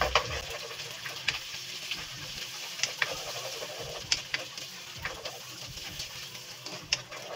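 Chili powder being stirred into a sizzling mixture in a pan, a soft, continuous frying hiss with faint scraping and tapping from the spoon at irregular intervals, fairly quiet and without speech.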